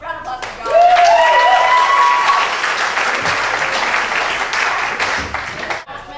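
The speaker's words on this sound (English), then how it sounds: "Round of applause for" An improv comedy audience bursts into loud, sustained applause and cheering, with a brief whoop at the start, fading slightly before stopping.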